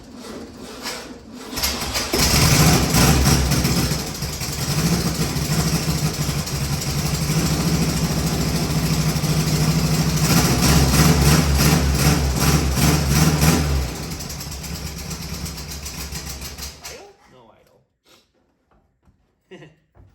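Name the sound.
Volkswagen Beetle car engine running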